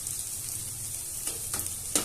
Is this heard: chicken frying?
yes